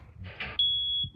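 A smoke alarm sounds a single sustained, high-pitched electronic tone that begins abruptly after a brief rustle and continues near and loud to the end.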